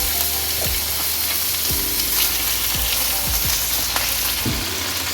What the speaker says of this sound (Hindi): जब प्याज हल्का सा ब्राउन हो तो इसमें हाफ़ kg बीफ वो ऐड कर दें और इसको भून लें।